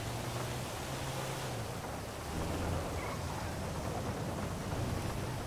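Steady rain pours in a GTA video game, a dense even hiss with a low rumble underneath, continuous and fairly quiet throughout with no speech.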